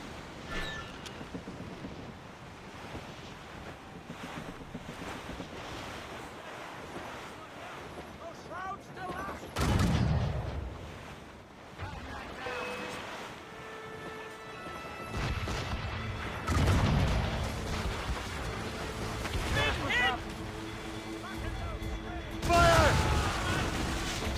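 Ship cannon fire during a naval battle in Assassin's Creed Rogue, with several heavy booming blasts spread across the scene under wind, sea noise and bursts of talk.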